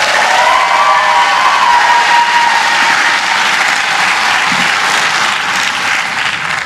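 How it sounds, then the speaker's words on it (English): Crowd at a 2024 health professions commencement ceremony gives sustained, loud applause with some cheering for Professor John Sykes, steady throughout with no speech over it. "round of applause for John Sykes"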